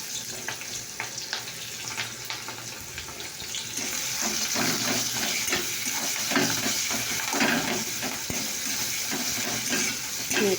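Chopped onions fry in a pan with a steady, hissing sizzle and occasional stirring scrapes, growing louder midway and continuing without speech.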